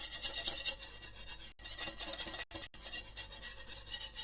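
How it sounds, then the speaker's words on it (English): Flour being whisked steadily in a pot, a continuous close scraping rasp with brief pauses, kept moving without talk. "you whisk it, keep it always moving"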